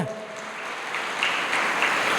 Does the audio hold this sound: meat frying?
no